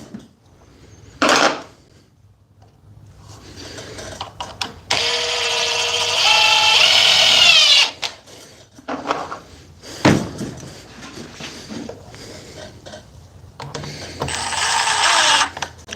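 Cordless Milwaukee and DeWalt battery impact drivers run in bursts during a side-by-side test, loud high-pitched whirring in two long runs with shorter hits and clatter between them.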